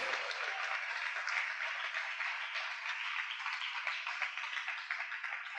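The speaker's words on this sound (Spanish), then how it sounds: "Denle un fuerte aplauso al Señor en esta linda noche." Steady applause from a church congregation at a Christian church's anniversary evening service, a dense, even wash of many hands clapping together, heard at moderate distance and continuing throughout without any talk.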